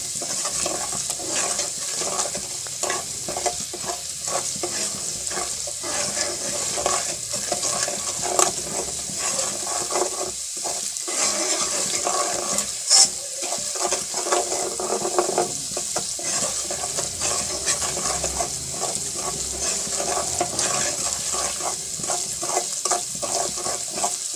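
Semolina roasting in a pan for sooji besan halwa, a steady soft sizzle with scraping stir strokes running throughout, close and even, with no talk.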